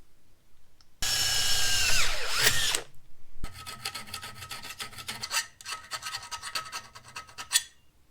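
A drill whirs briefly, then a hand file rasps back and forth in quick, steady strokes, deburring metal on a Harbor Freight creeper, close and continuous for several seconds.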